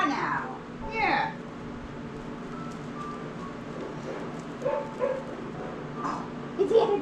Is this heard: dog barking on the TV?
yes